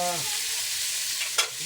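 Karas karas being stirred while frying in a pan gives off a steady, close sizzle with a brief scrape of the utensil near the end.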